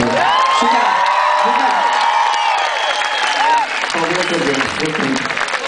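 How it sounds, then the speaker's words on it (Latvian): Loud, dense applause from a crowd fills the whole stretch, with cheers and whoops rising over the clapping and a few voices mixed in. "tas skaļākos aplausus noteikti viņš bija pelnījis"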